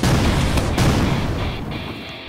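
A cookie cannon fires in the Roblox obby game Grumpy Gran, giving a loud, booming burst that rumbles on and slowly fades over a couple of seconds, with no talking.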